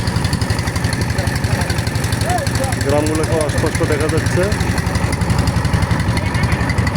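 A river boat's engine runs steadily, a close, loud, rhythmic chugging throb that continues for the whole stretch while someone talks over it.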